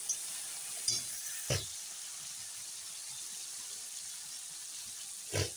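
Water splashes into fried spice masala for a rohu fish curry, a continuous soft sizzle with a few brief louder bursts of pouring and stirring, close and without speech.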